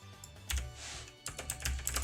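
Rapid keystrokes clatter on a computer keyboard during a session of a mobile gacha game, with bursts of typing and short pauses over a low background hum.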